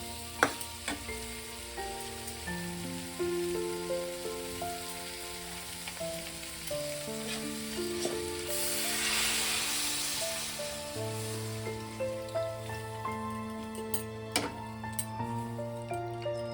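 Water is poured into a pan of frying potato, fig and prawn curry, giving a sudden surge of hissing sizzle midway over a steady background sizzle, with a melodic tonal backing throughout.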